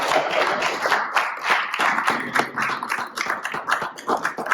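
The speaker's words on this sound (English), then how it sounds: "clap it up when you say it." A crowd claps in quick, uneven bursts at a motivational talk, bright and fairly close, with a few voices mixed in.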